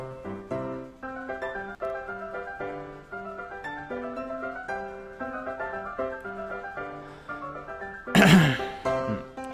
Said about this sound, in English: Should not cough into the mic.